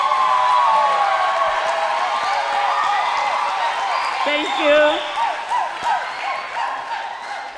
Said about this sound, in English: A clap for them again.